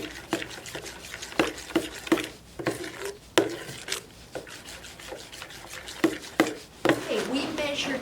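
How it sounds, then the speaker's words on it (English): Liquids and vanilla extract for chocolate chip cookie dough are creamed together in a bowl, giving a run of soft rubbing scrapes and clinks at an uneven rhythm. "So we're creaming together our liquids."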